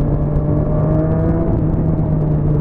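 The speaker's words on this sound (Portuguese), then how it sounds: "andando de moto" A rented motorcycle being ridden, its engine giving a steady, loud mid-range drone with a constant tonal hum and wind rush, close to the mount and without speech.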